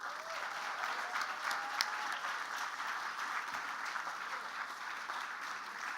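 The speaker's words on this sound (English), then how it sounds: "Would you please give a warm round of applause and welcome to the stage" Faint, steady applause from a live stand-up comedy audience greeting comedian John Dore, an even wash of clapping with no voices over it.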